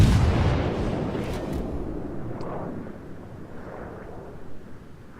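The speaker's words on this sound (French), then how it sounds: "Encore quelques tirs." Heavy naval gunfire from a battleship in World of Warships, a big booming blast at the start that rolls off into a long rumbling decay, loud and close with no talk.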